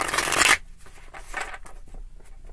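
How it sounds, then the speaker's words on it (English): Tarot cards shuffled on a table, a dense, loud riffling burst in the first half second, followed by quieter scattered card rustles and taps. "Okay, we want to shuffle this way now."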